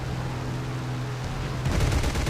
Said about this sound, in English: 20mm cannon on the nose. So that's just to show you it in action